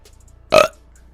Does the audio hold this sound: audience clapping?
no